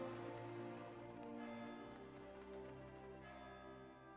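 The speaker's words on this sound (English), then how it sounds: "That's too many bells." Church bells chiming in the medieval world of Kingdom Come: Deliverance II, a dense sustained ringing with layered harmonic tones filling the scene at a steady, moderate level with no talk.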